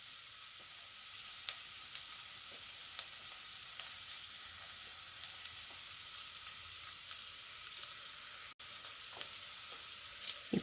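Fenugreek seeds sizzle in hot oil for a dried anchovy curry, a steady soft crackling hiss with scattered small pops, fairly quiet and with no talking.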